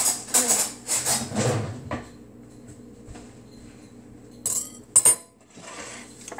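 Metal cutlery clattering and clinking as a knife is fished out in a kitchen during cake frosting, a busy rattle at first, then sharp isolated clinks after a quiet pause.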